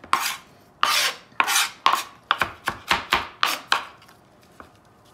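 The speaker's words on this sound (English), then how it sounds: "I just take the back of my knife and I just press it" The back of a kitchen knife presses and scrapes garlic into paste on a cutting board, with about ten rasping, scraping strokes in an uneven rhythm and close to the microphone.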